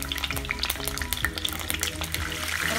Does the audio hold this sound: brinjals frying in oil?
yes